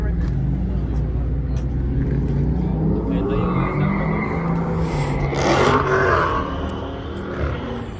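Dodge SRT cars spinning out at a car show, with a steady rush of engine and tire noise and a rising squeal near the middle, heard under nearby crowd chatter and talking voices.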